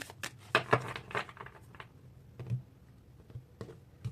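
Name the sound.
shuffling tarot cards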